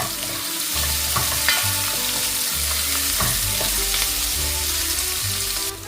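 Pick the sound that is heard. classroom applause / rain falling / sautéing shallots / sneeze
sautéing shallots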